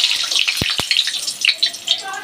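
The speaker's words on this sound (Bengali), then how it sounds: "তেল গরম হয়ে গেছে, এবার আলুগুলো দিয়ে দিই।" Potatoes dropped into hot oil sizzle and spatter loudly and close by, with a couple of dull thuds as pieces go into the pan and a steady crackling hiss.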